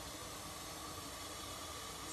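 ZENY facial steamer, a personal home salon ion spray device, releasing steam as a steady broadband hiss, close and continuous throughout with no voices.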